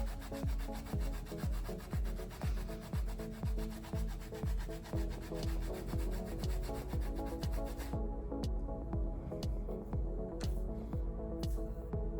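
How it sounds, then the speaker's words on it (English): Scalp scrub worked through hair by hand, giving steady rhythmic rubbing and squishing strokes, close and continuous, with a quieter, thinner texture in the last few seconds. "now I've applied the scalp scrub throughout my hair"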